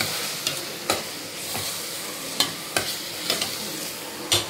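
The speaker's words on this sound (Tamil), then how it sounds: "இப்போ அப்படியே எல்லாத்தையும் கலந்து விட்டுறலாம் நல்லா" Spoon scraping through thick masala of onion, tomato and ginger garlic paste with chilli powder and garam masala in a pot for mutton curry, several sharp stirring scrapes spaced over a soft continuous sizzle.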